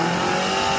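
A GWM Tank 400 Hi4-T 2.0T hybrid SUV drives off-road on a muddy hill, a loud, continuous engine and drivetrain roar with a steady whine, brief and close.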